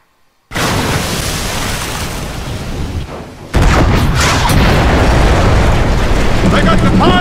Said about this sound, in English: I like cannons. Cannons are fun.